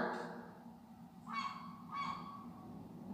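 A seagull gives two short, harsh honking calls about half a second apart, clear above a low background murmur.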